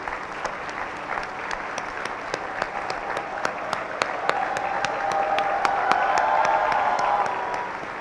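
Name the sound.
audience applause at convocation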